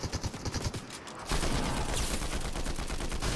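Rapid automatic fire from the Combat AR in a shooter video game, a dense sustained burst starting after a brief lead-in of quieter thumps, loud and close throughout.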